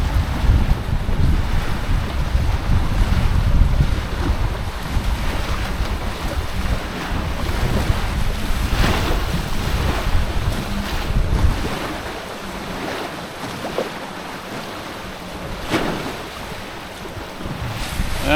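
A Hobie Cat 16 catamaran running downwind on open sea between Italy and Croatia, with loud gusting wind buffeting the microphone over rushing waves and hull splash that ease off toward the end.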